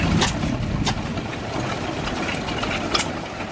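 Several antique gas engines run together at an outdoor display at Midwest Old Threshers in Mount Pleasant, Iowa, making a loud, steady mechanical chugging with rhythmic knocking pulses, close by and with no voices over it.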